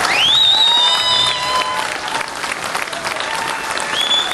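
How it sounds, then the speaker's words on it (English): Audience applause for a sheriff at a panel event, steady, full clapping with a few whistles rising above it, sustained throughout. "he deserves a round of applause"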